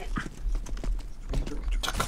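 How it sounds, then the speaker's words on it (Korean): Footsteps in Counter-Strike: Global Offensive come as a quick series of crisp, irregular thuds and scuffs at moderate loudness over low game ambience. "발소리 살짝 났어."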